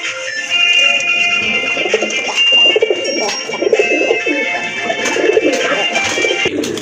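A male fancy pigeon coos in repeated throaty rolling phrases, close and fairly loud, with faint background chatter and distant noise behind it.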